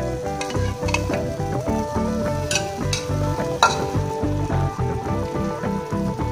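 Sugar syrup bubbles and sizzles steadily in a pan, with soft crackles and occasional pops, close and continuous.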